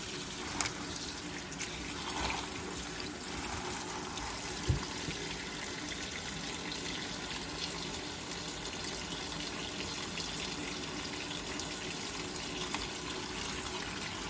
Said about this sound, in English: We're going to fill that up with cold water.